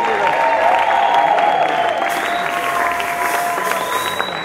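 A church congregation at a live gospel concert at a college breaks into steady applause mixed with cheering and shouts of praise, loud and continuous, fading slightly toward the end.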